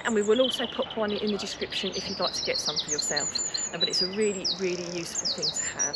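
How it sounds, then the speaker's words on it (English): Birds sing steadily at a UK allotment in May, bright repeated chirps and trills carrying from nearby under a person talking close to the microphone. "So we can hear the birds singing"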